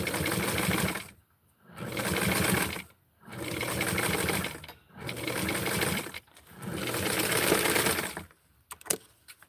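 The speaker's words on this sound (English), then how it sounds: "So right now, I'm going to sew it into place." A sewing machine stitches fabric in five loud, steady bursts of rapid whirring, separated by short pauses, while flower-patterned pieces are sewn into place. A few light clicks and knocks follow at the end.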